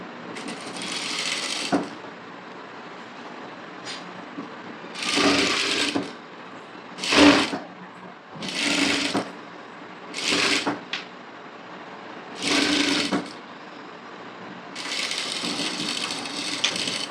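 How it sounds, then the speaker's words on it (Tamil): A sewing machine stitches a blouse neck facing in several separate bursts of rapid whirring, each a second or two long, with quiet pauses between them, close and fairly loud. "இதில் ரைட் சைட் ஃபேஸிங் வச்சுட்டு நெக்கு 1/2 இன்ச்சில் தைச்சி திருப்ப போகிறேன்."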